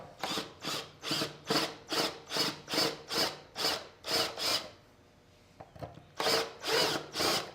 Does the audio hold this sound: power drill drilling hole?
yes